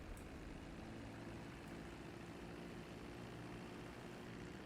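Propeller airplane in the video game GTA 5, a faint, steady engine drone with a low harmonic hum running unbroken throughout.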